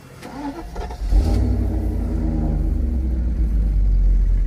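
A 1991 California Mercedes 500 SL engine turning over and catching, then settling into a loud, close, steady rumbling idle with slight revving surges, and no speech.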